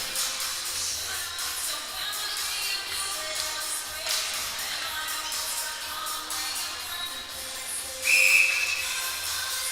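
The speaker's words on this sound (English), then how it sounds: "The whistle's going to be blown as they're covering the puck." A referee's whistle blows sharply during an under-15 ice hockey game, one brief shrill blast near the end, heard over a steady arena hiss and crowd murmur.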